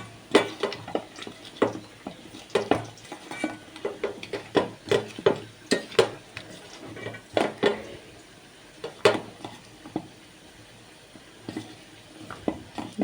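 Fish being mixed by hand with ginger paste and spices in a dish, giving a run of irregular wet squelching slaps and occasional clinks against the bowl, close and fairly loud, with no talking.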